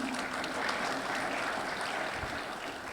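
Audience applause at a Bengaluru development summit, a steady wash of clapping at moderate loudness that holds evenly throughout.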